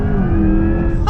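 A 2024 Corvette E-Ray playing its artificial V8 engine sound, a brief loud, revving roar close up with a sharp rise at the very end.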